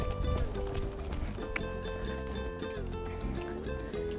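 Hooves of a five-year-old Lusitano stallion clip-clop steadily at a riding center in Portugal during schooling exercises, a soft rhythmic beat beneath a constant background of music.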